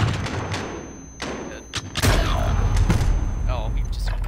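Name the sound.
grenade explosion in Call of Duty video game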